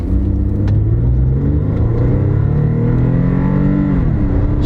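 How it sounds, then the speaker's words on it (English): A Toyota or Lexus car engine accelerates from a stop, a loud close rumble rising in pitch through the gears with brief dips at the shifts, heard from inside the car. "The engine sounds strong."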